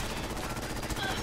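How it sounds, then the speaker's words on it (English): Rapid machine gun fire from a first-person shooter in Fallout 4, a steady dense rattle of shots filling the clip, ending in a louder burst. "Eat my machine gun."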